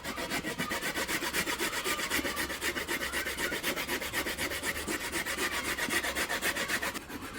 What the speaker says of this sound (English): Grate out the coconut now